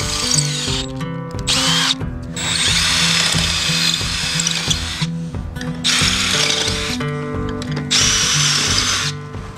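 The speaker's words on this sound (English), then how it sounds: "So I just have to drill out the skeg." A power drill bores out the skeg of a boat rudder, running steadily in loud near bursts with brief pauses and pitch shifts as the bit bites and eases.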